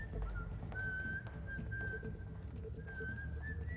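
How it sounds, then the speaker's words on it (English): A person whistles a sustained, wavering tune in several long held notes, fairly close and steady, with a low rumbling background and no talking. "Dude, stop fucking whistling."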